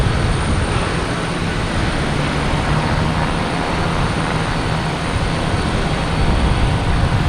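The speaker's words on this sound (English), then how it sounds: "Alaskan Airlines heading to Portland. 737 MAX 9." Alaska Airlines Boeing 737 MAX 9 jet heading to Portland from Boston Logan Airport, a steady loud broadband engine roar that holds without a break for several seconds, with no talk over it.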